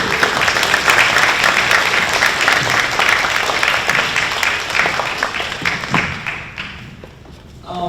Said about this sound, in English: Please join me in one more round of applause to Dr. Eric Betzig.